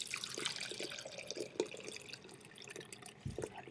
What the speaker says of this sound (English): I'm going to go ahead and measure out our clam juice, which will be measured for you.